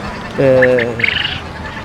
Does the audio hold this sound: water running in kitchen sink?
no